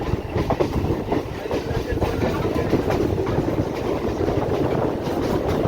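A suburban train from Tarakeswar heading toward Howrah runs at speed with a loud, continuous rumble and rapid rhythmic clatter of wheels on rails, heard from inside the carriage.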